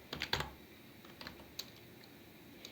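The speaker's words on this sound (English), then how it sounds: "So you type 20 and press enter." Keys clack softly on a computer keyboard in a few quick taps, followed by a single heavier press; quiet and close, with no talking.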